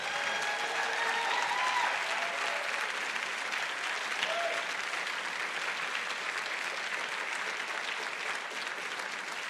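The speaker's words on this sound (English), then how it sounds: "put your hands together for both of our candidates tonight" Crowd applause for two candidates at a Texas 18th Congressional District runoff debate held in a church, a steady, fairly distant roar of many hands lasting throughout.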